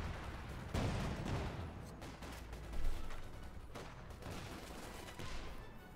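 Distant machine gun fire in the strategy video game Company of Heroes 2, faint bursts of rattling shots with a couple of heavier thumps over a low battlefield rumble.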